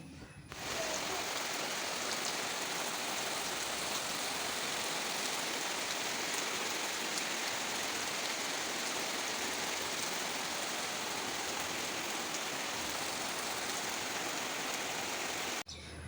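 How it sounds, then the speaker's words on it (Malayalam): Steady, dense rainfall hisses continuously throughout, a broad even wash of drops with no voices or breaks. "അപ്പം നമ്മൾ കുറച്ച് നേരം മഴയൊക്കെ നോക്കി നിങ്ങാണ്ട് കണ്ട് പോയി"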